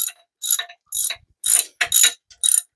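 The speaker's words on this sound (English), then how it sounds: "I'm going to grab a socket and just cinch those in a little bit tighter." A ratchet and socket tighten bolts on a Crusader 454 marine engine during a rebuild, giving short close bursts of rapid clicking, about seven quick ratcheting strokes separated by brief pauses.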